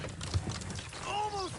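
Horse hooves clip-clop at a walking pace in Red Dead Redemption 2, soft and close, with a brief whinny-like tonal call near the end.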